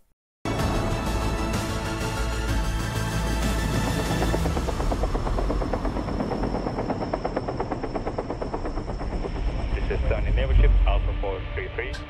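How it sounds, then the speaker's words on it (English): A jet aircraft roars past with a loud, steady broadband rush that holds throughout, its pitch shifting slightly as it moves, with a brief thump near the end. "No idea what kind of jet that is."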